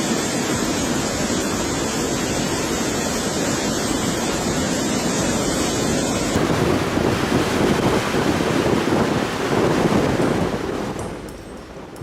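Large waves, nearly six meters high, pound the Lake Michigan shore at St. Joseph in a continuous loud roar of surf mixed with heavy wind buffeting the microphone, fading slightly at the end.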